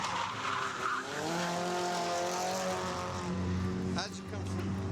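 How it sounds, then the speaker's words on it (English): Race cars roar and skid close by at a live racetrack with tyre-barrier protection, a steady loud engine drone with rising and falling pitch sweeps and brief tyre squeal, while someone talks over it. "I'm actually stood next to the live racetrack, protected by 2 tyres"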